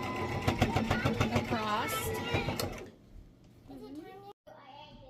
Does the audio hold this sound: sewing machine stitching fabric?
yes